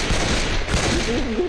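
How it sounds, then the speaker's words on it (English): Shotgun blasts in Left 4 Dead 2, a few rapid heavy booms close together over game noise, with a voice speaking briefly. "Oh my god, that's my shotgun."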